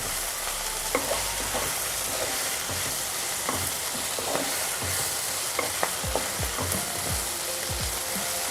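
Broad bean curry frying in a pan while a spoon stirs it, soft scraping strokes and light clinks over a steady low sizzle, close and fairly quiet.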